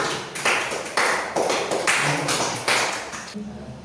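A high school history class claps for a student in quick group bursts of rhythmic clapping, about six or seven sharp, loud rounds close by.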